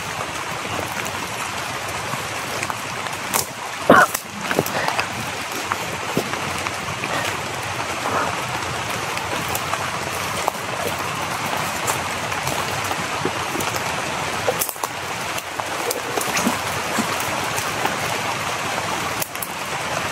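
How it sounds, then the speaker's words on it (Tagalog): Rain falls steadily outdoors as a dense, continuous hiss of drops, with occasional sharper taps and knocks, and no voices heard. "Umulan na"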